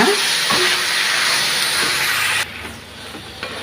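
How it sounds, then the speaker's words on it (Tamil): Tomatoes sautéing in a pan for paneer butter masala, a loud close hissing sizzle that drops suddenly partway to a quieter frying hiss with faint scrapes. "தக்காளியும் இதுலேயே நல்லா வதக்கிடலாம்"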